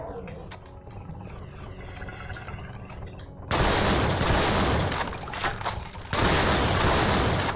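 Quad shotgun fire in the Doom mod Project Brutality: a quiet stretch with faint game sounds gives way to two loud, dense bursts of blasting gunfire, each lasting a couple of seconds.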